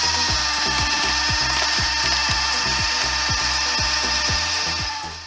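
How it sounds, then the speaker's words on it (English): A homemade wood splitter working on logs up to 50 centimetres across: a loud, steady mechanical drone with a regular, rapid knocking beat throughout. The sound fades slightly at the end. "homemade wood splitter is capable of splitting logs up to 50 centimeters in diameter"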